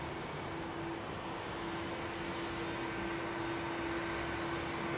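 A Singapore Airlines Airbus A380 arriving at London Heathrow makes a steady, moderately distant jet drone carrying a sustained tonal hum, unbroken across the stretch, with no talking.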